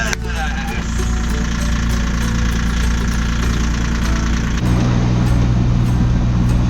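A sailboat's cold inboard engine runs steadily after starting, a loud, close, rough idle with a rhythmic knocking pulse that holds the whole time and deepens slightly toward the end.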